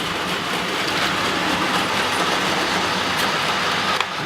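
A Märklin model train runs along a home layout with a steady, close rolling rumble and light clickety-clack of wheels on track, continuous throughout, ending with a small sharp click.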